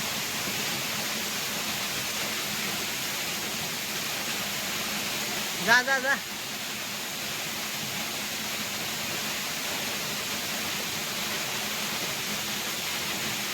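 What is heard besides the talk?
waterfall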